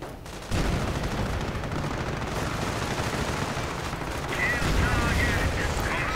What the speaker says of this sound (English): Panthers firing away